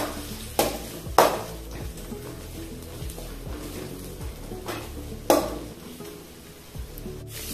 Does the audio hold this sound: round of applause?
no